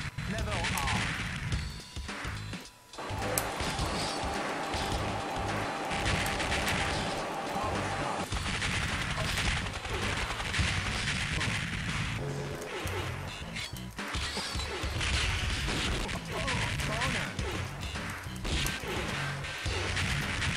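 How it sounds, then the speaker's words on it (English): Booming bass explosions and rapid gunfire fill a Neo Geo arcade shooter, a dense, continuous barrage of crashes and blasts with game music underneath. "This has nice, meaty, bass booming explosions."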